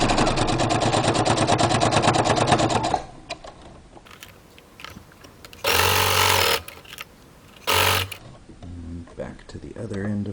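A sewing machine stitches close to the edge of a homemade fabric face mask, a rapid steady run of needle strokes for about three seconds, then quieter handling and two short bursts of machine noise.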